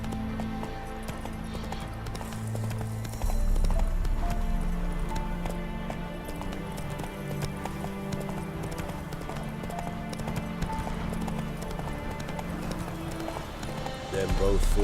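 Roach the horse galloping in The Witcher 3, with steady rhythmic hoofbeats running throughout under game music and voices.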